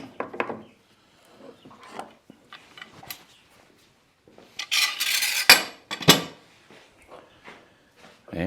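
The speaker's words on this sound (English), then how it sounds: "Time to take the clamps off." Pipe clamps come off a freshly glued wooden chess board with close scraping, rattling metal and wooden knocks in uneven bursts, including a louder cluster of clanks midway.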